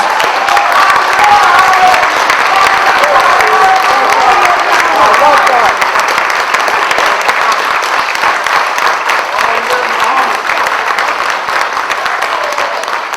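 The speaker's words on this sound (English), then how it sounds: "Captain Silis Muhammad, I think we should give him another round of applause" A large audience at a Mother's Day celebration gives Captain Silis Muhammad a sustained round of applause, a dense, loud wash of clapping mixed with crowd noise that holds steady throughout with a faint voice underneath.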